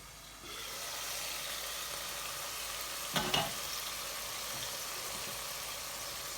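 Onions cooking under a lid in a pot on low to medium heat give a steady, soft sizzle and hiss that starts after a moment and runs on evenly, with a brief knock partway through.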